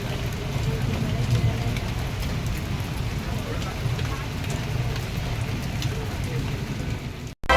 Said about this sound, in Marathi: वादळी वाऱ्यासह झालेल्या मुसळधार पावसाने दाणादाण उडवली होती.